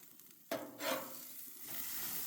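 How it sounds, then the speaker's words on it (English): Turkey burgers and bacon cheddar burgers sizzle in a pan, with a sharp clatter partway through before the frying hiss swells and holds steady, close and fairly quiet, with no talk. "You may be wondering why I'm cooking two types of burgers."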